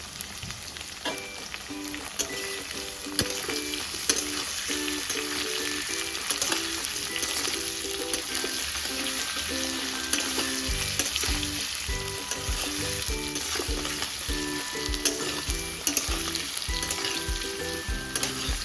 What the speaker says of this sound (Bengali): আলুটা একটু লাল লাল করে ভাজা হয়ে গেলে তার মধ্যে দিয়ে দেবো স্লাইস করে কেটে রাখা পেঁয়াজ